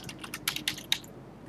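Registration details are tapped out on a computer keyboard in a quick, uneven run of light clicks that fade to a faint room hush.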